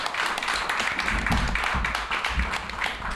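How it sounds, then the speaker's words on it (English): Short burst of close, steady clapping from a town hall audience in Denver for DPD Police Chief Ron Thomas, continuous throughout. "I'm going to ask everybody to give a round of applause to DPD Police Chief Ron Thomas."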